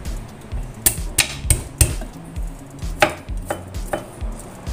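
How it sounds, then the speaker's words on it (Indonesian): A knife chops garlic coarsely on a cutting board, with a series of sharp, irregular knocks over about five seconds and light clatter between the strikes. "Bawang putihnya seperti biasa ya, cincang kasar saja"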